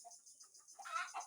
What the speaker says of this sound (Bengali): দেশি মুরগির বাচ্চা আছে